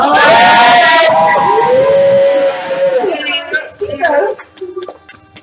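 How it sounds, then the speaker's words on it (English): A live game show crowd cheers and shouts loudly together after a jelly bean challenge, with sustained raised voices that break into scattered whoops and calls as the noise fades. "Cheer on, everyone!"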